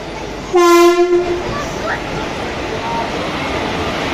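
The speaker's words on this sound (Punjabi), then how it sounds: "ਟ੍ਰੇਨ ਸਾਡੀ ਆ ਗਈ ਹੈ ਜੀ" A loud train horn blasts for just under a second, then rail rumble continues steadily as the train rolls in nearby.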